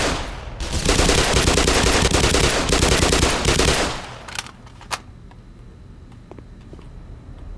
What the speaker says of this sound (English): The Marines will provide suppressive fire for each other.